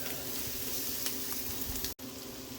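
Onions coated with paprika and caraway seeds sizzle steadily in a pot for goulash while being stirred, a close, continuous frying hiss with a brief break near the end.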